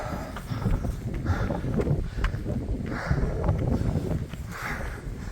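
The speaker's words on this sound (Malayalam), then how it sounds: "കാറ്റ് രക്ഷയില്ല." Strong wind on a mountain at night near Munnar, a constant heavy roar buffeting the microphone with rumbling gusts throughout, loud and close.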